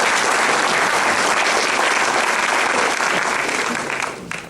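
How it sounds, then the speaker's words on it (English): Loud, dense audience applause fills a youth awards evening, steady and sustained before tapering off near the end, with no voices over it. "So let's give them a round of applause."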